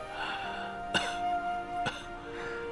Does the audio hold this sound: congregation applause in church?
no